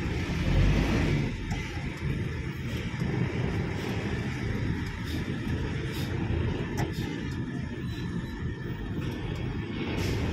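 Heavy road traffic on C5, a continuous low rumble of passing cars, trucks and buses with scattered higher noises over it, heard at moderate distance.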